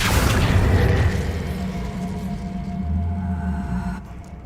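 Spell blasts in the video game Hogwarts Legacy: a deep booming burst fades into a low rumbling hum with a faint whoosh, loud at first and then settling, with no talk.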